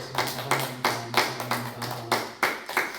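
Church congregation at a Wednesday worship service clapping in unison, a rhythmic series of about a dozen sharp claps at a steady beat, with a low sustained tone beneath and no speech.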